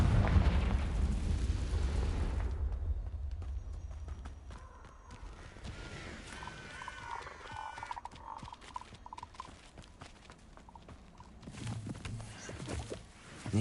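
A Confringo fire spell blasts rocks in Hogwarts Legacy, opening with a loud booming explosion and low rumble, then settling into crackling debris and softer rattling effects that swell again near the end.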